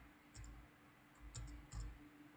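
Keys struck on a computer keyboard while a Linux command is typed, giving three short bursts of quiet, close clicks separated by brief pauses.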